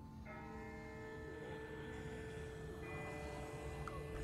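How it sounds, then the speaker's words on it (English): A distant bell tolls in The Walking Dead video game, its long ringing tones fading slowly over a low rumbling ambience, faint and far off with no other sounds. "That's not the same bell as before. This one's further off."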